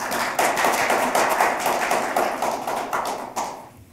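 Audience at a labour-reform seminar gives sustained applause, a dense, steady wash of many hands clapping for several seconds before fading out at the end.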